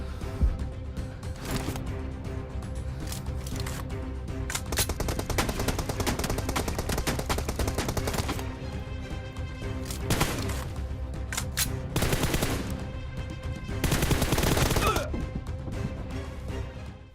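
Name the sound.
gunfire in the video game PUBG Mobile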